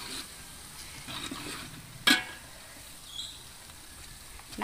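Onions frying on a wood-fired stove for mutton biryani, a low steady sizzle with faint stirring scrapes and one sharp clatter near the middle, close and quiet.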